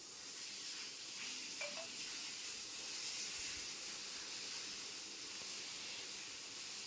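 Red chilies, cumin, chopped garlic and ginger fry in a pan with a steady, soft sizzling hiss, faint and continuous throughout with no voices.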